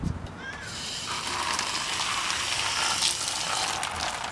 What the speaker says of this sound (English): I have a hose handy. You're going to need a hose, and you just rinse it off